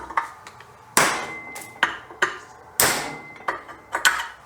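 Hammer blows on a chisel against a cracked wheel bearing on a 2007 Kia Sorento front hub, about ten sharp metallic strikes in an uneven rhythm, some ringing, close and loud.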